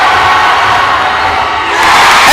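A high school varsity basketball crowd in a gym roars and cheers after a made free throw late in a close game, a loud, sustained wall of shouting that surges again near the end.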